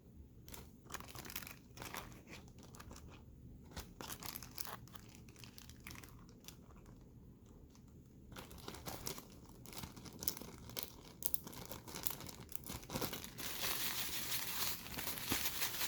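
Chicken wingettes being coated in breadcrumbs, producing soft, close crinkling and rustling with irregular scraping bursts that grow busier and louder toward the end.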